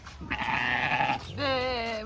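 A goat bleats in a drawn-out, wavering cry at a lion park safari, followed by a second rising bleat, fairly close and loud over steady background noise.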